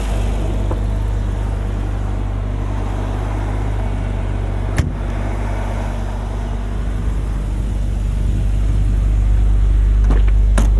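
A 1991 BMW E34 M5 with individual throttle bodies, driven on the road and heard from inside the cabin as a steady low engine rumble with road noise and a couple of brief knocks.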